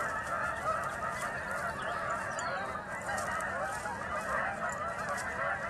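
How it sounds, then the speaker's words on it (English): Geese on McLaren Island along the Long Sault Parkway keep up a dense, unbroken chorus of honking, steady and moderately loud, with no voices. "You can hear something has disturbed the geese."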